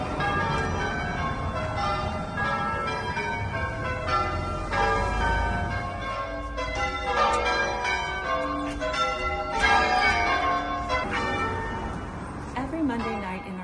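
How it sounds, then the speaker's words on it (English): Church bells ring out over an English village on a Monday night, a long peal of overlapping tolls in steady changing rhythm, moderately distant and continuous, with a voice briefly speaking near the end. "Monday night in our village, the church bells ring."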